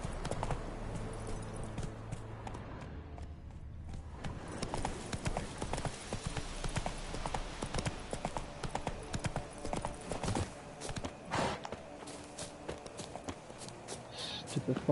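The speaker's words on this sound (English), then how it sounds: "Stupid fucking horse." Rapid, rhythmic clip-clop of horse hooves at a gallop in The Witcher 3: Wild Hunt on PS5, steady and close, over a dense, busy background of game sounds.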